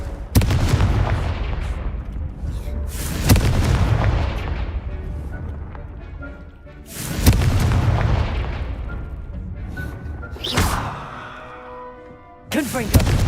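Repeated fiery spell blasts in Hogwarts Legacy land as sharp, heavy booms at irregular intervals, each decaying into a rumble, with a voice talking between them.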